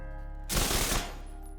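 Chatterbox submachine gun in The Division 2 firing at 2125 rounds per minute: one loud half-second burst of extremely rapid shots that blur into a continuous roar, with quiet background on either side.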